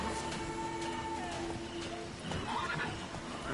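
In The Witcher 3, Roach the horse whinnies clearly against the clip-clop of hooves, the neigh rising out of a steady trot of hoofbeats at close range.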